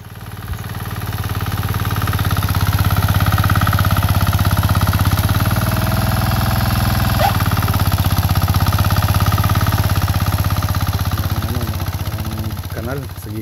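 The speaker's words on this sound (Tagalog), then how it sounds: "gumamit tayo ng rotavator" A rotavator tills soil to make a seedbed for a saba banana plantation, its engine droning loud and steady throughout with a rough mechanical churn.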